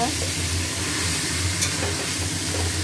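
Vegetables stir-fried in a pan, including potato, pumpkin, beans, Malabar spinach stems and eggplant, with a steady close sizzle and stirring that runs through the whole stretch.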